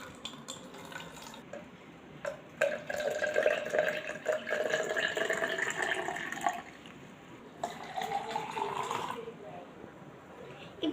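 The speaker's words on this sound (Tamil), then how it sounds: "இந்த புதினா டீயை நம்ம லெமன் ஜூஸ் ஊற்றின டம்ளரில் ஊற்றிக்கலாம்." Mint tea is poured into a tumbler holding lemon juice: a close, continuous trickling splash that swells, briefly pauses, then resumes more softly.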